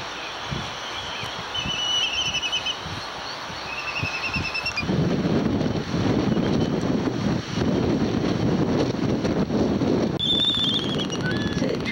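Strong wind on Midway Island buffets the microphone in a continuous rumble that grows heavier midway through, with faint bird chirps above it.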